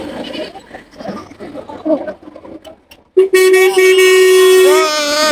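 A loud, sustained goat bleat rings out after a stretch of background chatter and vehicle noise, holding steady before wavering at the end.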